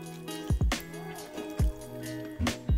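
Okra gravy made with fried lady fingers, coconut milk and salt is stirred in a pot, giving a few close, wet squelching strokes over a low steady background hum.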